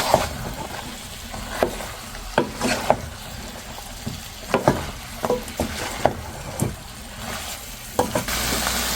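Vegetable bhaji frying slowly in a pan over low heat, a steady soft sizzle broken by repeated scraping stirs of a spatula against the pan, close and fairly loud, with no talking.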